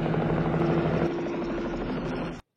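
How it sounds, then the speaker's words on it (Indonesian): An army helicopter flies overhead with a loud, steady rotor drone and whine, continuous and close for more than two seconds before cutting off abruptly. "tiba-tiba sebuah helikopter angkatan darat terbang menuju kediaman John"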